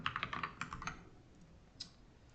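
Rapid keystrokes on a computer keyboard while code is typed, a quick burst of close clicks followed by a few scattered taps, quiet and without talk.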